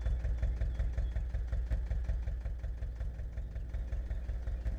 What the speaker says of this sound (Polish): traktor zgaś